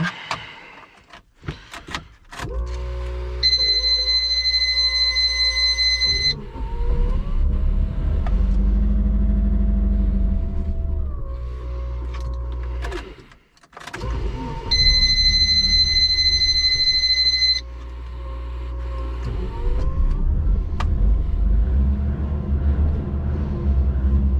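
A twin turbo Subaru engine idles after a cold start, a close, steady low rumble broken by starter cranking and a pause, with chime-like tones sounding twice over the idle.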